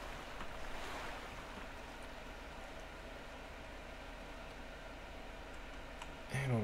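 River water flows in the video game The Flame in the Flood, a steady, faint wash of current with a soft surf-like texture throughout.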